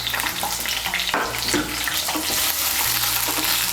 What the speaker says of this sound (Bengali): কোয়াশের টুকরোগুলোকে মিশিয়ে নেব তেলের সঙ্গে